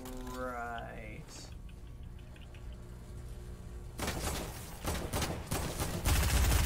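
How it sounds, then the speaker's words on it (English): In Fortnite, police officers' gunfire rattles out in quick bursts during the final few seconds, after a stretch of game sounds and a rising tonal effect. "I'm being shot by the police officers."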